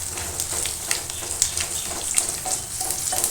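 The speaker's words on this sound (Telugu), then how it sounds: "ఇక్కడ ఇలాగ బాగా వేగిపోవాలన్నమాట వెల్లుల్లిపాయ" Garlic fries in oil for a village-style brinjal chutney. The crackling sizzle is close and lively, with frequent sharp pops and spatters scattered through a steady frying hiss.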